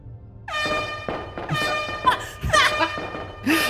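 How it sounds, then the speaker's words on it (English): A blaring air horn in Resident Evil 2 Classic blasts repeatedly in loud, stacked bursts, each blast cutting off and restarting in a chaotic, comedic rhythm. "you get an annoying air horn for some reason"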